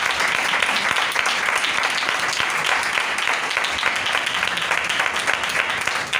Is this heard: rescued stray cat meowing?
no